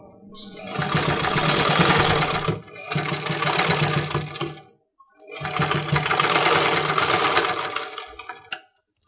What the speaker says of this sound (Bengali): আমি বডির কাপড়ের উপরে একটা সেলাই করে নিচ্ছি